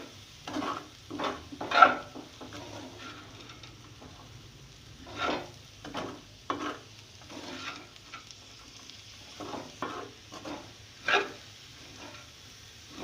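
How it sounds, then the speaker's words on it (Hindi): Chicken macaroni ingredients seasoned with black pepper being stirred in a pan, a series of soft scraping, rustling strokes in irregular bursts, close and fairly quiet with no talk. "इन सब चीज़ों को मैं बहुत अच्छी तरह से जो है आपस में मिक्स कर दूंगी"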